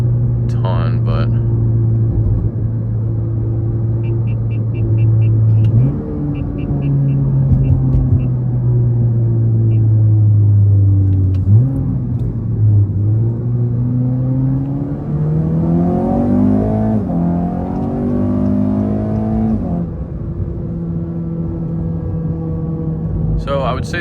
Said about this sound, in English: Let's get some downshifts here